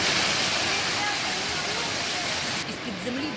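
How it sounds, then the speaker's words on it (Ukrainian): A burst water pipe under the asphalt in a central Kyiv district sends up a column of water with mud and stones, a loud, continuous roaring gush heard close, with a voice speaking faintly underneath near the end. "вирвався стовп води із багнюкою та камінням"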